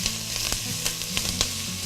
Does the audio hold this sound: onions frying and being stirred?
yes